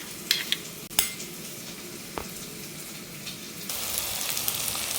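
A water-thinned spice paste is stir-fried in a pan with steady sizzling, while a spatula scrapes and clinks against the metal a few times; the frying grows brighter near the end.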